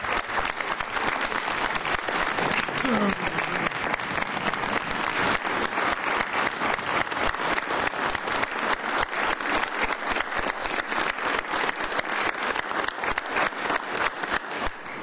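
An audience at a council meeting gives a long, dense round of applause, steady rapid clapping from many hands that keeps going at an even level for about fifteen seconds.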